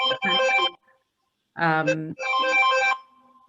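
A mobile phone ringtone plays a bright, melodic chime in two bursts separated by a short silence, fairly close and loud in a quiet room.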